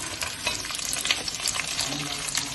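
Chopped onion hitting hot oil with browned garlic, a dense steady sizzle with scraping stirs on top, close and fairly loud throughout.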